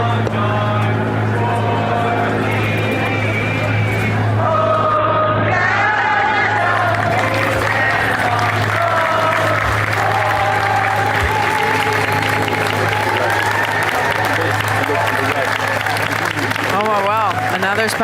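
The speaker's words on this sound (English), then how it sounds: "spontaneous O Canada, a round of applause," A large outdoor crowd applauds and cheers after spontaneously singing O Canada during King Charles's 2025 visit to Canada, sustained clapping with whoops over a low engine hum, a commentator talking over it.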